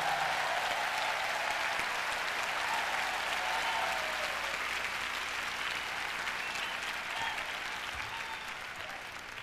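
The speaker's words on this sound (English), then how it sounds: "Please give them a big round of applause." Sustained audience applause for the orchestra at a 1994 concert in Yokohama, Japan: a dense, steady wash of clapping from a large crowd that holds strong throughout and eases slightly toward the end.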